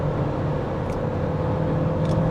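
Dacia Duster Hybrid 140 engine held at steady high revs through its CVT-type gearbox, a constant loud droning hum with no talk over it.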